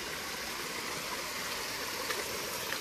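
A rain-fed stream running out of a farm field carries well water as a steady, close rushing flow with a continuous bright gurgle and no pauses. No voices are present.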